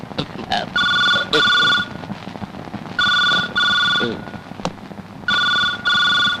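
A telephone rings in three separate bursts of quick double trills, loud and close, with brief voices and rustling in between.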